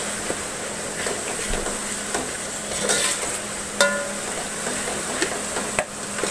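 Yogurt frying with masala in a pan for mutton biryani, giving a steady close hiss and sizzle with occasional stirring scrapes and clinks, alone without talk.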